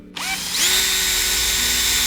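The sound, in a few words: power drill drilling a hole in an electric octave mandolin body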